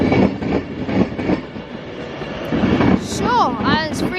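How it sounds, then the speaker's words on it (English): Class 390 train 390 131 arriving at a Crewe station platform, a continuous loud rumble of wheels and motors with rising electric whine and squealing tones toward the end as it slows, close by. "as 390 131 approaches into the platform"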